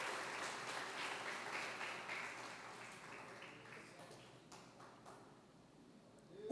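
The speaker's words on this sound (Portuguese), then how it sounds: "Você pode aplaudir a Deus?" A church congregation applauds in a faint, distant wash of clapping. The sound slowly thins out and fades over several seconds.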